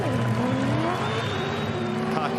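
A Supercars race car at the 2021 Townsville 500 locks its rear tyres entering a corner, giving a brief, continuous screech of tyres over a loud, steady engine note that shifts in pitch.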